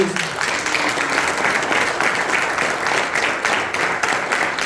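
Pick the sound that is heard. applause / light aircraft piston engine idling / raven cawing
applause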